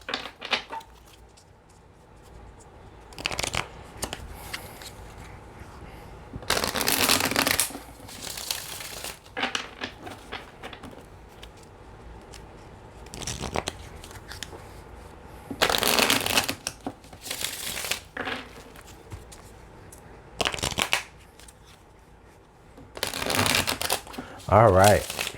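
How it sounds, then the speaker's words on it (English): Tarot cards are shuffled in several separate bursts of crisp riffling, with quiet gaps between, under a soft speaking voice. "one more shuffle"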